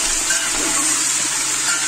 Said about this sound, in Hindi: अब इसको अच्छे से इसमें भून लेंगे हम।